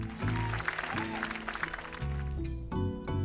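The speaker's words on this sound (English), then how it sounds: "let's give a special round of applause for our core construction team" Applause from the crowd in the video game My Time at Sandrock at a bridge rebuilding celebration, a steady wash of clapping blended under loud, sustained in-game music.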